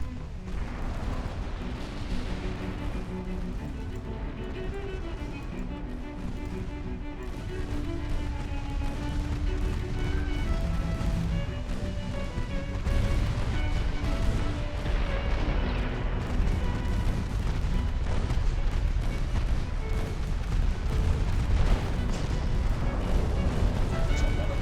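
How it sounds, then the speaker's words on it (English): Naval artillery fire in the Ultimate Admiral Dreadnoughts video game, with heavy warship guns booming almost without pause over a dense, rumbling battle din that grows louder partway through. "I like it when the entire battle line is taking fire there."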